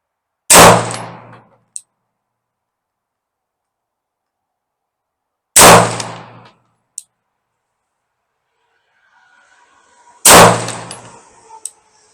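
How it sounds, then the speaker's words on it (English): Three sharp, loud 9mm pistol shots from a Girsan Witness 2311 Match X ring out about five seconds apart, each a hard crack with a short ringing tail, separated by near silence. "Let's go with the Witness 2311 Match X now."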